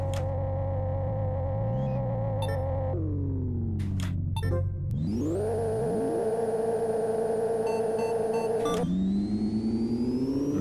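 A car engine in the Pixel Car Racer video game revs hard through a quarter-mile drag run, a loud synthesized drone climbing in pitch and dropping sharply at each gear shift, with no talk.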